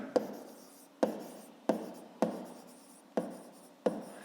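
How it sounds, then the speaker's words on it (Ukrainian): A math solution handwritten on paper: six sharp pen taps, each followed by a short scratching stroke, spaced roughly evenly, quiet and close with no talking. "Записуємо тоді так, пишемо 2 і пишемо"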